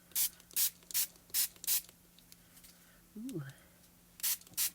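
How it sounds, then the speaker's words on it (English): Spray bottle spritzing water onto a Brusho watercolour painting, five quick sharp bursts in a steady rhythm, a pause with a brief voiced exclamation, then two more spritzes close by. "now I'm going to spritz"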